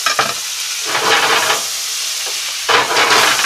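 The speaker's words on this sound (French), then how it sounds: "Alors on va mettre 2 gros morceaux de beurre dans notre poêle." Two big knobs of butter melting in a frying pan, sizzling and hissing loudly in repeated bursts as the pan is stirred.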